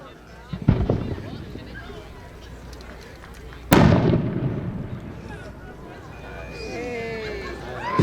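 A 5-inch aerial firework shell with a green rising tail launches with a sharp thump, then a loud burst of red, white and blue crackles and echoes outdoors, while people talk before and during the display.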